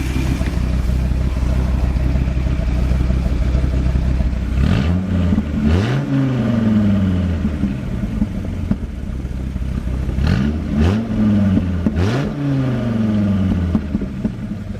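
A 2003 Dodge Viper SRT-10 V10 idles with a loud, deep exhaust rumble, then gets two pairs of sharp throttle blips that rise and fall, heard up close with no voices.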